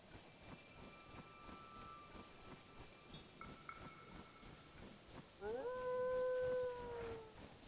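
Wolves in Zelda: Tears of the Kingdom let out faint, drawn-out howls over quiet game ambience, building into a louder, layered howl near the end.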